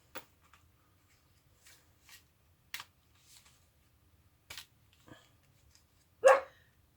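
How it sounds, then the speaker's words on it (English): A dog barks a few times indoors, short sharp yaps spread across the moment with pauses between, the last one loudest, over a quiet room with faint handling noises. "don't know why the dog's barking"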